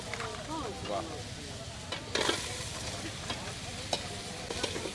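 Washed snails frying in a pan for an Adivasi-style snail meat dish, a soft steady sizzle with occasional scrapes and clicks, faint beneath a voice speaking nearby.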